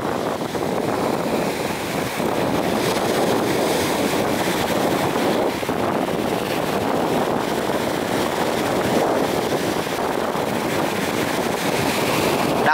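Small wooden boat motoring over a rough sea off Vietnam, with dense, continuous wind rush and wave wash buffeting the microphone at a loud, steady level; no clear engine rhythm stands out.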